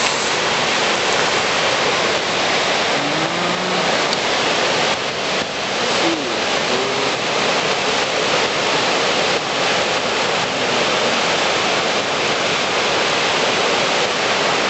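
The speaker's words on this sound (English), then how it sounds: "Wow, there's Niagara." Niagara Falls roars in a steady, loud, unbroken rush of falling water heard from a viewpoint, with no pauses over the whole stretch.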